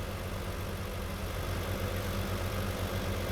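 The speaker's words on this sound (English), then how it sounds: "So far, these two tractors are working quite well together." Farm tractors pulling a windrower and a baler in Farming Simulator 19 give a steady, loud engine drone with a low rumble, running continuously with no breaks and no talk over it.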